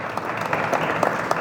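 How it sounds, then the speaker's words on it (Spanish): A seated audience at a Spanish-language lecture on devotions along the Camino Real de Tierra Adentro claps steadily, a full, even wash of applause throughout the short stretch with no voices over it. "para quien pido también un fuerte aplauso"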